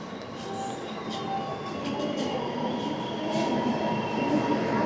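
A passenger train arrives at Aluva station in Kerala, a steady rolling rumble with faint squeals of wheels on rails, building slightly louder as it draws in.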